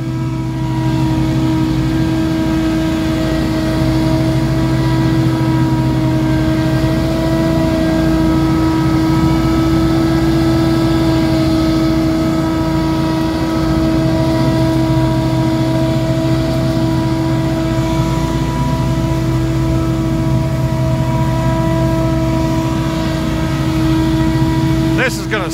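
Lawn mower engine running steadily and loudly up close, a constant droning hum with no pauses from start to finish.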